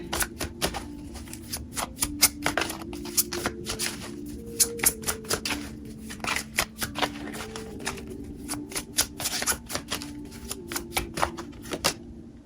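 Tarot cards shuffled and drawn from a deck during a psychic reading, a steady run of crisp riffling snaps and flicks with a low hum beneath, fairly close and alone without talk.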